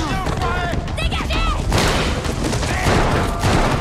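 Gunfire from a tense scene in The Last of Us TV series, a dense burst of shots and booms mixed with dramatic score and voices talking over it.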